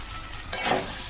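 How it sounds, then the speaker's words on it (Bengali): Soybean chunks and ground roasted spices sauté in hot oil, a quiet hiss suddenly swelling into a loud sizzle with a spatula stir midway, no one talking. "একটু ভাজা মশলা গুঁড়ো দিয়ে কষবো, তেল ছাড়া পর্যন্ত কষে যাব।"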